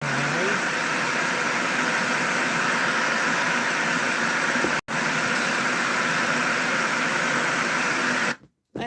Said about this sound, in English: Thank you for the white noise.